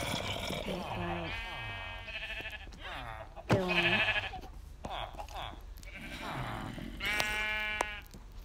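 Sheep in Minecraft, one of them dyed pink, bleat in several wavering calls spread across the stretch. A person talks over and between the calls.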